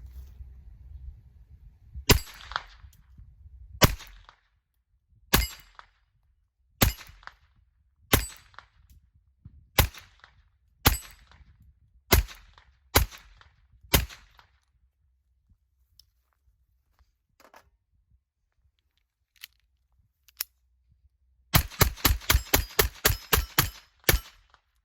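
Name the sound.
Ruger LCP II .22 LR pistol firing Fiocchi standard velocity ammunition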